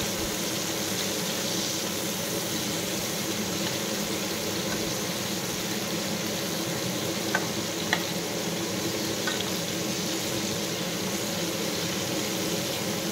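Pointed gourd pieces sizzle steadily in a frying pan, a constant hiss of oil with a few soft clinks as the pieces are turned over.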